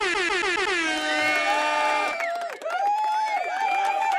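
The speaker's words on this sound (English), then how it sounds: "I give it an air horn and an applause" A loud blaring air horn, several stacked tones sounding at once, followed by a brief dip and more horn blasts layered over crowd noise.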